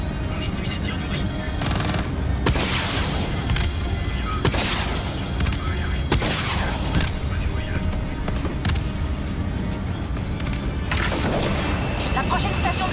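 Dense video game gunfire and booming blasts from Call of Duty Black Ops III fill the whole stretch, loud and continuous, with several sharp bursts and a French-speaking voice talking over the battle.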